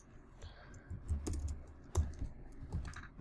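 Typing on a computer keyboard while working in Photoshop: an irregular run of quick, close clicks and key taps, fairly quiet, with no talking.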